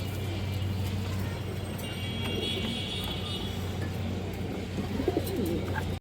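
A female pigeon coos softly amid a steady background hum, with a low, rounded call surfacing briefly near the end; a faint voice murmurs in the background.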